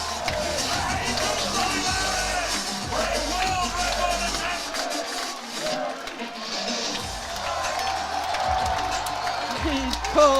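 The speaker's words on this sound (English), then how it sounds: "Here he comes, and the crowd chants Jesus." A powerlifting crowd at Sheffield 2025 chants and cheers for the lifter Jesus Olivares, a sustained roar with rhythmic surges and yells, briefly dipping midway before swelling again.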